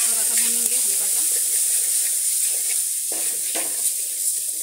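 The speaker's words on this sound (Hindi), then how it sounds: "काला नमक भी ऐड कर देंगे, थोड़ा सा भूनेंगे हल्का सा" Corn kernels roasting in a pan with black salt, a soft continuous sizzle and hiss with a few light scraping stirs near the end, close by.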